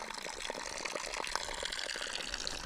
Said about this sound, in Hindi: चरवाहों की पानी की धारा।